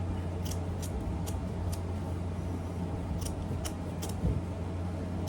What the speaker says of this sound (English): Now I'm gonna trim up some of the excess off the top